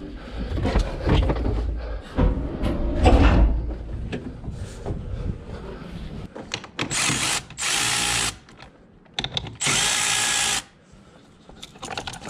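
A battery-powered cordless drill whirs in short bursts in a workshop, several spaced runs of high-pitched motor whine with clunks and handling noise between them.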